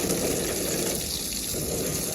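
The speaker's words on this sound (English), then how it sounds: "I'm gonna rinse this grass off. And you can see that the water flow is awesome." Water from a garden hose rinses grass off a fresh concrete sidewalk, a steady close-up gushing spray that stays loud and even throughout with no talk.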